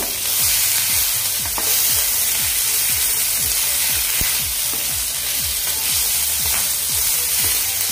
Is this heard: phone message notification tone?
no